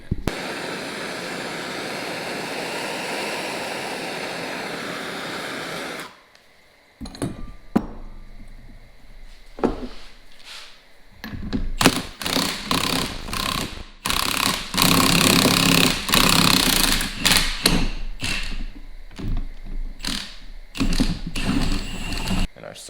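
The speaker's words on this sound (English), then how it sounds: "I'll show you guys the process of me heating this up with a little MAP gas and then pressing the bushing out." A MAP gas torch roars steadily while heating a control arm on a 1996 Honda Accord LX. It then cuts to silence, followed by sharp metallic clanks, ratcheting and hammering bursts as a bushing is pressed out.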